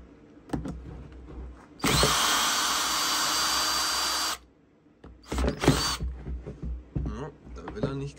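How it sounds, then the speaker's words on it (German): A power drill or impact driver loosens the four cylinder screws on a Stihl 023 chainsaw being stripped for overhaul, with a loud sustained whir, then a pause, then two shorter bursts, and someone talking before and between. "Dazu hier unten die vier Schrauben einmal lösen."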